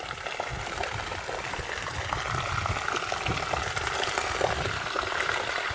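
Rainwater from a rain storage tank gushes out in a steady, noisy flow, a continuous close splashing rush with no pauses.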